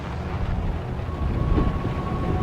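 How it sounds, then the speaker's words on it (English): Tornado-strength wind roaring in the HitchHiker video game, a steady dense low rumble that swells slightly louder toward the end, with no voices. "Looks like tornado conditions now."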